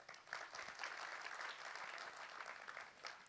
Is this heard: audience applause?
yes